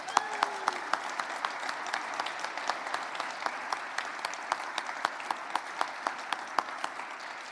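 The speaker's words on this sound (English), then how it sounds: "a round of applause for these wonderful children" An audience applauds children at a Gold Star Families tree lighting, a steady wash of many hands clapping with a few sharper individual claps standing out, moderately distant and continuous throughout.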